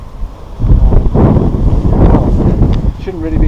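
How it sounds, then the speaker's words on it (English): Strong wind buffets the microphone on a mountain summit at Helm Crag, a loud, close roar of gusts under a voice. "It's very windy."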